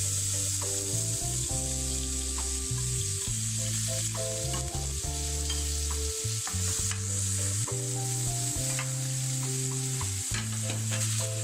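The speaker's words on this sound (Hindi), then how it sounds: "ऑयल डाल दिया हमने 1 कप। अब इसमें प्याज शामिल करेंगे।" Sliced onions sizzling in a cupful of hot oil while being stirred in a pan for a spicy tomato chicken curry, a steady close frying hiss broken by scraping stirs throughout, with no voices.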